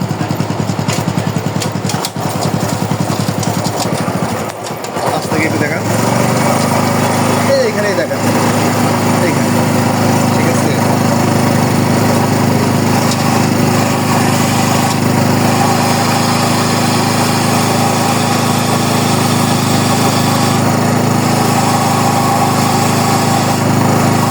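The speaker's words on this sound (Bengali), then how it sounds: "চাকাটাকে স্টার্ট করে নিয়েছি এবং চারটে গিয়ার দিয়ে এনেছি চাকাটা ফ্রি হয়ে গেল" A motorcycle engine runs loud and close in fourth gear while the lifted wheel spins freely for brake-drum work. It keeps a steady buzzing drone throughout, and people talk over it.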